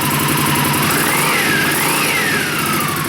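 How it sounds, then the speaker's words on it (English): Indian Scout Sixty motorcycle fitted with a Bassani 2-into-1 exhaust, idling steadily up close with a loud, continuous low rumble and a faint rising-and-falling whine over it, with no talking. "that's not a bad sounding exhaust"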